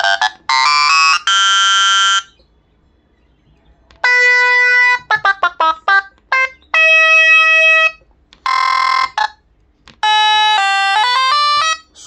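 Electronic keyboard organ voiced for a solo in an Egyptian shaabi set plays bright, sustained synthetic notes in short melodic runs separated by brief pauses, loud and close with no talking.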